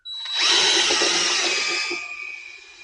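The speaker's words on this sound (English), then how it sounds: "What if I had 3 or 4 drills, each with a brush like this, had them all mounted on a board?" A power drill fitted with a scrubbing brush whirs loudly and steadily while cleaning carrots, a close continuous high-pitched spin that winds down toward the end.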